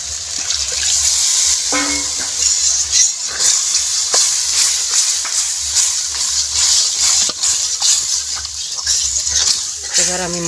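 A little water poured into frying spice paste in a pan over a wood-fired clay stove, giving a loud, continuous hissing sizzle close by, with a voice speaking briefly at the start and end.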